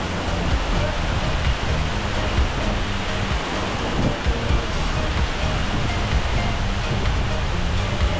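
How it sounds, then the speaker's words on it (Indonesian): Curug Lawe waterfall in Kalisidi, about 30 metres of free fall from a curved rock cliff into a natural pool, a dense steady roar of falling water up close, loud and continuous with no talk. "Curug Lawe ini memiliki tinggi sekitar 30 meter, yang terjun bebas dari tebing batu yang seperti melingkari area air terjun."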